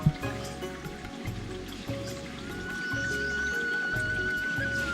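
Cold spring water flows steadily from a hillside source pipe in the mountains, a continuous close trickle and stream with splashing texture throughout, no talk over it.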